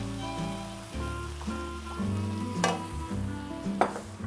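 Tofu and egg sizzle and crackle steadily in a hot wok with rice wine and soy sauce as they are stir-fried, with loud continuous frying and a couple of sharp utensil scrapes.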